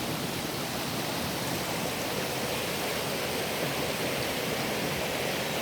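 Winifred Falls in Port Hacking's national park pours steadily, a broad, even rush of flowing water heard close and constant with no voices.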